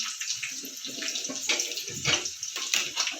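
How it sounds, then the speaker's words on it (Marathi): Hot water poured into a pan of stuffed besan brinjal curry over sautéed onions in a home kitchen, a steady splashing gush with small bursts, close and moderately loud, no voices. "थोडं पाणी गरम करूया आपण गरम पाणी घाल"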